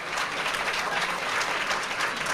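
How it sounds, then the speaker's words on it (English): An audience at a town hall applauds as the Parkland students arrive, with steady, dense clapping from a large crowd filling the whole stretch. "You can watch people are starting to stand up and applaud them"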